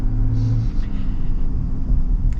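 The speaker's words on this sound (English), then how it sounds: "Man, that Ford is flooring it." Steady low engine rumble from a 2024 Ford F-150 Platinum pickup under hard acceleration, heard at a distance as a continuous road-vehicle drone.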